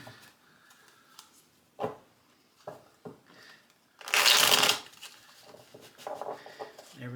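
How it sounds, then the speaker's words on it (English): Bohnanza bean cards are shuffled like a regular deck: a few soft riffles and taps, then a loud, close burst of card shuffling lasting under a second, with quieter handling afterward. "shuffled like a regular deck."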